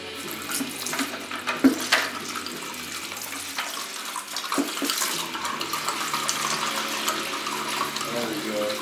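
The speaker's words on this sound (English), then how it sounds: "Gonna go ahead and drain all this coolant out now." Coolant drains out of a 1996 Yamaha Banshee 350 ATV, a continuous close splashing trickle of liquid pouring and spattering, with occasional clinks along the way.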